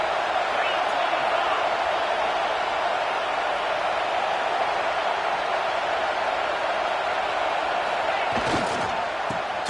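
Stadium crowd at a football game cheers behind the defense on third down, a dense, steady roar that holds throughout, with a few sharp claps or bangs near the end.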